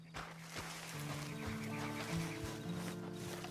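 Horse whinnying in a western video game, a clear near neigh that rises and holds over soft hoof movement, fairly quiet overall.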